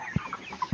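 Broiler chickens on a poultry farm give two short, soft clucks about half a second apart, faint and close, over a quiet background hum.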